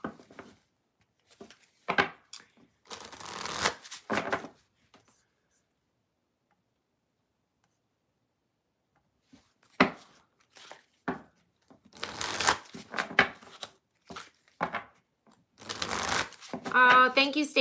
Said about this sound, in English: Do a little shuffle, shuffle.